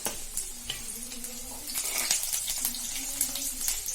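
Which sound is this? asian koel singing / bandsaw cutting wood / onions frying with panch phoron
onions frying with panch phoron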